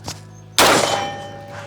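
A single carbine shot is fired at a target during a shooting stance training drill: one sharp, loud crack close by that decays over about a second.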